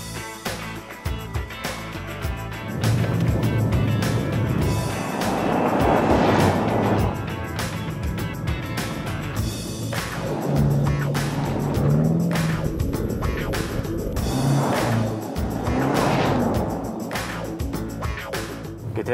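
A 2012 BMW M5 prototype moves off gently as its engine takes over from the held brake pressure, a steady, fairly loud engine and road drone running continuously throughout.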